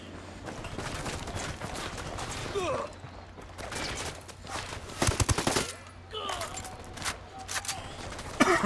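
Rapid bursts of automatic gunfire from the shooter game Ghost Recon Wildlands crackle in clusters, with voices talking between and over the shots.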